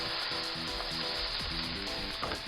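Vegetables frying in a pan for fried ramen, a dense continuous sizzle with faint scraping and clinking underneath, close and steady without talk.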